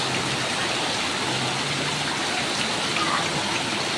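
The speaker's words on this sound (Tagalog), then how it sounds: "Rain, rain, go away, come again another day." Heavy rain falls in a steady, dense hiss that stays even throughout, with no voices over it, during a downpour in the Philippines.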